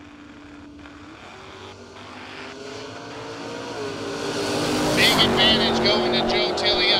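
Drag race cars, a first gen Camaro and an orange Duster, rev and launch down the strip, engine roar climbing steadily and growing much louder toward the end, with a rising whine and crackle over a background of a public-address voice.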